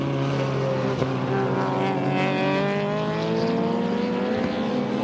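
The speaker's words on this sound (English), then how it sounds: "The unmistakable sound of the BMW under brakes." A BMW touring car under braking at Oran Park in 1991: the engine drones loudly with its pitch sliding steadily downward as it slows, a continuous close mechanical whine.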